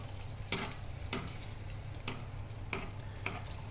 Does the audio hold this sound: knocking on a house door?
no